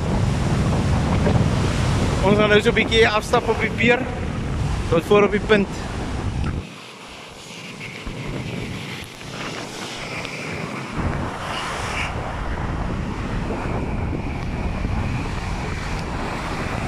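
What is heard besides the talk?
strong wind and sea surf on the pier at Swakopmund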